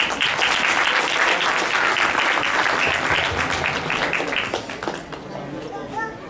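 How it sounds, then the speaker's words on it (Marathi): An audience at a Marathi school Diwali program in New Jersey gives hearty applause for the children's parents. The dense clapping runs loud for several seconds, then thins and fades toward the end. "त्यांना एक टाळ्या वाजवा"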